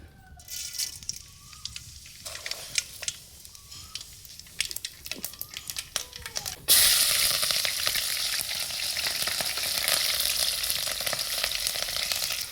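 Mustard seeds dropped into hot oil over a village wood-fired clay stove, crackling in a light patter at first, then breaking into a loud, dense, continuous sizzle and spatter about two-thirds through, close up with no talk.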